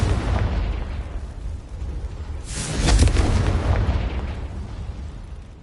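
A burst of blasting noise from a Confringo spell in a wizarding game, building to a loud boom that swells around the middle and then slowly rolls off into a rumbling tail, with no voices over it.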